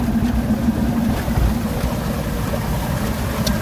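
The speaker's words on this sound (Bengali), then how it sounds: "এই দেখেন কি পরিমাণ পানি সেই পানির মধ্যে দিয়ে যাচ্ছে অটোরিকশা" An auto-rickshaw's engine drones steadily up close while floodwater churns and splashes around it as it drives through, in Bangladesh.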